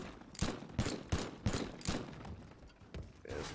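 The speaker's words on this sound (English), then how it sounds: "This is the alien gun mod." Alien gun mod in the Teardown video game firing a rapid series of heavy, booming shots, about seven loud blasts in uneven rhythm with decaying rumble between them, no voices.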